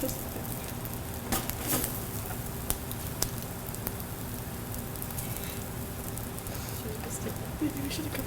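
Butter sizzling in a pan for a beef stir fry, a steady crackling hiss running the whole time with a few sharper pops, while people talk nearby.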